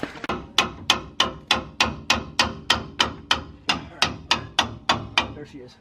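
A hammer strikes about fourteen times in a steady, even rhythm, each blow sharp and ringing, close and loud, with no talking.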